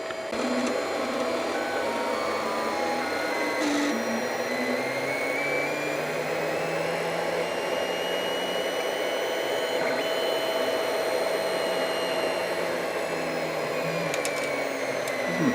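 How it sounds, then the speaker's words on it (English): An Anycubic Chiron 3D printer runs its level test print, a steady whirring motor hum with pitched stepper tones sliding up and down as the x-axis travels back and forth, continuous and close with no talking. "Makes some weird noises as the x-axis goes back and forth."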